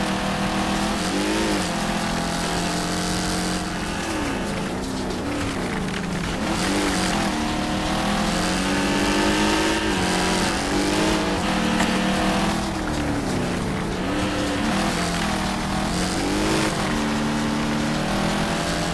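Fast car racing in Wreckfest, a loud, constant engine roar with rising and falling revs as gears shift, dense and continuous with no pauses.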